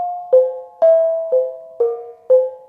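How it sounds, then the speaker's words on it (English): Gamelan bonang playing an introduction: six bright, ringing pitched gong-kettle strokes at a steady, even pace, each one sounding clearly and decaying before the next, with no voices over them. "Okay, so this is the bonang."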